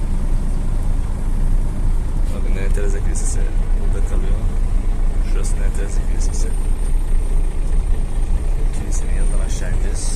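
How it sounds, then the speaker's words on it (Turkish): Number 7 city bus driving in Pristina, a steady loud rumble of engine and road noise with a faint hiss of air brakes, heard from inside. "Ama eşyanız varsa tabii ki mecburen bu otobüsü kullanmanız gerekiyor. 7 numaralı otobüs."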